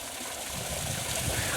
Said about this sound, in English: this waterfall is one heck of a sound of summer, by far